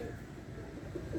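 Pigeons coo softly and continuously at close range, low murmuring calls overlapping in a steady rhythm at a faint overall level, apparently from a rooftop loft of flying pigeons.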